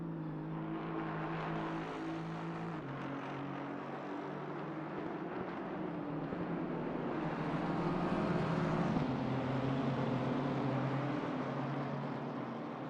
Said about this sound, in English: It is a Bentley BMW sandwich coming back uphill.